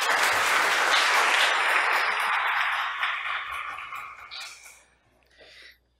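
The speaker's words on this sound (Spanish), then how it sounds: "Un fuerte aplauso, por favor." Strong applause from the audience at the close of a legal seminar on challenging corporate resolutions, loud and dense at first, then thinning out and fading to a few scattered claps before stopping.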